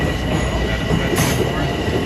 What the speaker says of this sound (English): So the train just left.